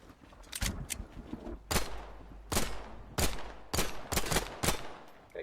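Gunfire in the Phantom Line video game aimed at a gasoline barrel: a series of sharp, loud shots and short bursts at uneven intervals, close and dry, with no voices over them.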